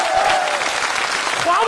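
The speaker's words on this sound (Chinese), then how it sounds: "我一说就有掌声" Studio audience applause at a live Chinese comedy sketch performance, steady crowd clapping filling the short moment with a faint voice trace over it.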